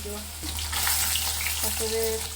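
Hilsa fish fries in hot oil with a steady, broad sizzle that holds throughout at close range, with a low hum beneath and brief background voices.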